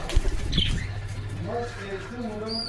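Cockatiels and budgerigars in an aviary give short chirps and soft warbling calls at moderate distance, with a sharp clack early on and a person talking nearby.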